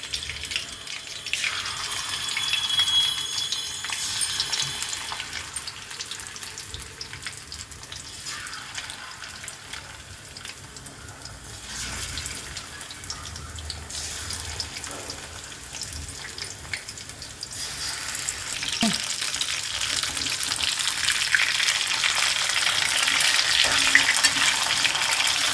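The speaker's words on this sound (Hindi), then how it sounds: "बाकी चिकन को भी हम इसी तरह से फ्राई कर लेंगे।" Chicken pieces fry in oil for chilli chicken, a loud close sizzle that swells and fades as pieces are stirred, building steadily louder toward the end with no talking.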